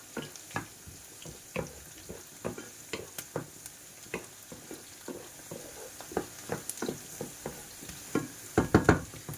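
Chopped onion fries in a pan, with a steady sizzle broken by frequent clicks and scrapes of stirring, close and moderately loud, with a burst of louder clatter near the end.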